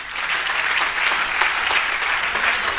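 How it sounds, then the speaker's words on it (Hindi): An audience at a theatre ceremony claps steadily, producing continuous, dense, even applause for the whole stretch with no pause. "जितनी तालियां आपने हमारे लिए बजाई हैं उससे ज्यादा उसके लिए बजाइएगा"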